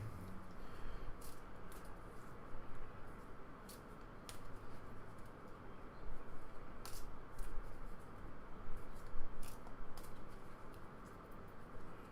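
Warcry game cards being shuffled, a quiet run of soft papery riffles and flicks in irregular bursts, close up with no talking.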